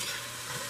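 A pot of seasoned meat in olive oil sizzles softly on the stove while being stirred, a faint, steady hiss with no talking.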